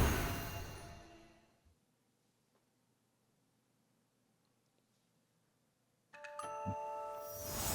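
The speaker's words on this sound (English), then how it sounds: "I love how all the sounds and chimes are different in this area." In the Infinity Nikki video game, a bright ringing chime like a doorbell sounds twice, clear and sustained, with near silence in between.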